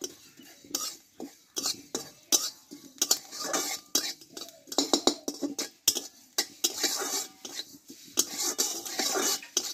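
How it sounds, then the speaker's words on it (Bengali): Black cumin seeds dry-roasted in a pan with a little oil, a spatula scraping and clinking against the metal in irregular strokes, close and fairly loud, with a faint dry crackle beneath. "কালো জিরেটা একটু শুকনো খোলায় ভেজে নেব"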